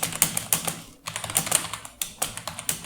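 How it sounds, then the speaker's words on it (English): Rapid keystrokes clatter on a computer keyboard during a Ratatype typing test, an uneven burst of close clicks with a brief pause partway through, and no voices. "find out how many words in a minute can you type"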